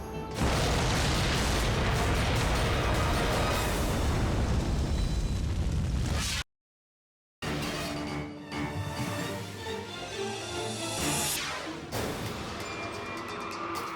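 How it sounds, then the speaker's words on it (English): A massive industrial explosion rocks a city, a loud sustained blast and roaring rumble that cuts out abruptly, then resumes with crackling debris and lingering rumbles. "The devastating explosion rocks the city."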